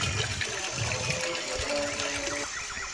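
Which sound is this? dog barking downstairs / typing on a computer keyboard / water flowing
water flowing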